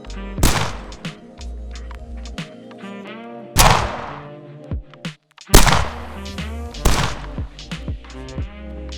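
Several sharp, punchy video game gunshots, built in Wwise and Unity, ring out at irregular intervals, each followed by a brief ringing tail, with deep booming thumps between them.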